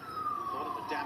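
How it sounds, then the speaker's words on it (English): A siren wails faintly in the distance behind a livestream watch-along of an A-League football match between Central Coast Mariners and Western United, its tone gliding slowly downward in a single brief sweep. "That's definitely not my siren."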